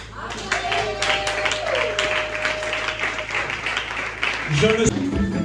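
An audience at a youth missionary convention claps in a steady wash of applause, under a droning hum and background voices, with a few louder accents near the end.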